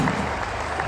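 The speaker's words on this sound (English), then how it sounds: "give him a round of applause, well done." A brief burst of loud festival crowd applause, dense and close.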